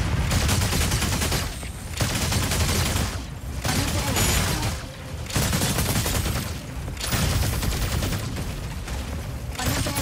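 Sustained mech gunfire in the Mecha Break game, dense and continuous bursts of rapid shots filling the clip with only brief pauses between volleys, loud and close, no talk.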